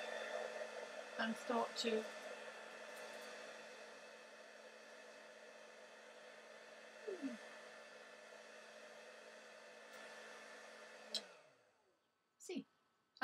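A heat gun warms paper mâché beads, giving a steady, loud blowing roar that runs for about eleven seconds before cutting off, with brief talk near the start and end.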